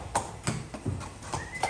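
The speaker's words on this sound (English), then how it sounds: "And I think they are the horses." Hooves clip-clop on a hard surface in an uneven walking rhythm near Arenal, Costa Rica, several distinct steps close by, with no talking.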